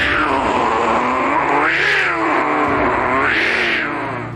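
A mimicry artist vocally imitates two cats fighting, with drawn-out rising and falling yowls and caterwauls in two swelling waves over a steady hissing growl, loud and close with no other talk.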